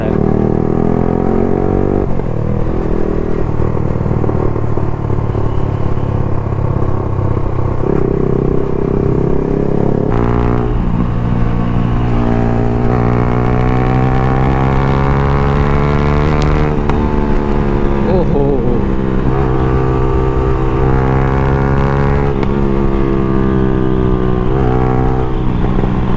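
Loud Yamaha R15 V4 motorcycle with a full-system modified exhaust revving up and down for a long stretch, rising and falling pitch with sharp pops and crackles from the exhaust.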